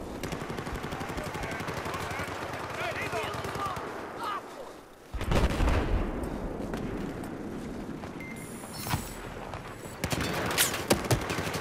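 Battlefield 4 gameplay gunfire: sustained automatic shooting and scattered shots, with a heavy blast midway, while someone talks excitedly throughout.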